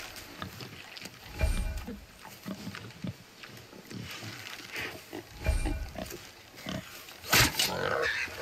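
A boar in God of War snorts and grunts in short bursts, loudest around the middle and near the end, over soft ambient game sound.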